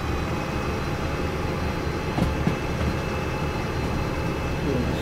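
Long freight train hauling steel rails in the Derail Valley simulator, a steady low rumble and rolling drone of wagons throughout, with a few brief squeals or clanks near the middle and a faint high whine.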